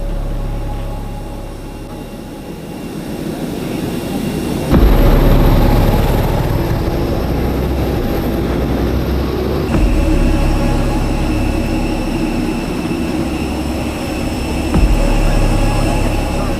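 Airplane engine running steadily from a played recording of people being taken off an aircraft and moved to a transport, a continuous low roar with loud shifts at intervals.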